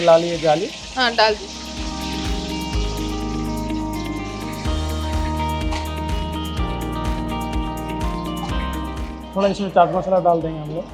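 Chicken kebab coated in green chilli paste frying in oil, with a steady sizzle running throughout and a voice talking loudly over it near the start and end.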